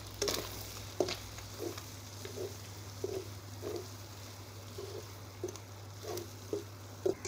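Kanava squid masala stirred in a frying pan: soft scraping strokes recur about twice a second over a low, steady sizzle, close and fairly quiet.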